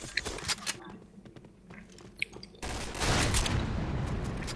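Gunfire in a team video game shooter: scattered sharp shots crack over a busy background, then a denser, louder barrage of rapid fire. Voices may be faintly mixed in.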